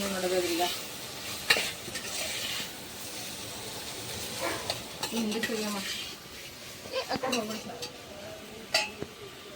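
Bitter gourd frying in a pan, a soft steady sizzle broken by scraping stirs and clinks of a utensil against the pan, with quiet talk in the background.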